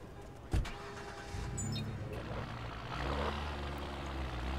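Car in the Watch Dogs video game, a door thump followed by an engine starting and idling, rising as it revs, with faint mechanical whirs over a steady rumble.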